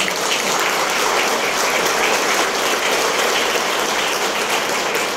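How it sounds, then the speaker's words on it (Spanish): Dense, loud applause from an audience at a speech honoring a union leader, a steady unbroken wash of clapping that holds at full strength throughout with no voices on top. "Y me refiero al profesor René Bejarano, para quien pido un fuerte aplauso."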